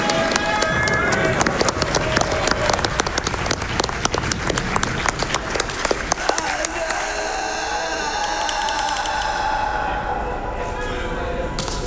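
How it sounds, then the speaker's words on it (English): A large live audience at the Summer Games Done Quick speedrun marathon breaks into dense, sustained applause with cheering and whoops. Clapping is loudest for the first several seconds, then thins as talk continues over the remaining crowd noise. "let's get a round of applause for Barry Burton"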